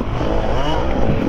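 A 2025 KTM EXC enduro motorcycle ridden on a trail, its engine droning close and loud with a rough, continuous buzz, no talking.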